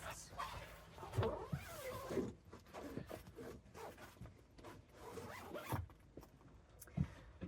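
Zips on the pop-top roof windows of a campervan being drawn closed, several quick rasping pulls in succession, close and fairly quiet, with fabric rustling and a few soft thumps between them.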